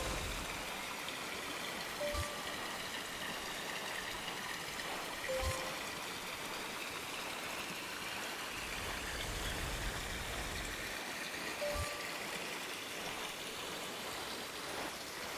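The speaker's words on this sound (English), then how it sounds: "I do like these water slides, but I also think they're kind of annoying." Water rushing steadily down the water slides in the TY the Tasmanian Tiger video game, a continuous hissing flow, fairly quiet, with a few brief game sound effects over it and no talk.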